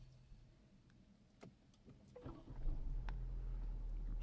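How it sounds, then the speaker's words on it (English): A 2022 Changan UNI-T started with its push button, a few faint clicks and ticks in a quiet cabin, then the engine catching and settling into a low steady idle. "So to start the car, we have got a start stop button over here."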